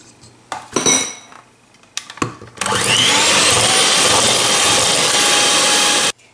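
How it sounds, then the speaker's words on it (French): Electric hand mixer whirring loudly and steadily as it beats cream for tiramisu, starting after a few clinks of utensils on a bowl and running for about three and a half seconds before cutting off. "je vais le passer au batteur électrique pour en faire une bonne crème"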